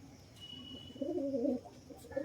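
A pigeon at a pigeon market at dusk gives a short low cooing phrase, moderately close, against a steady background hum with faint distant noises.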